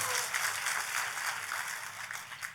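A church congregation applauds together in a dense, steady wash of clapping that holds at an even, moderate level throughout.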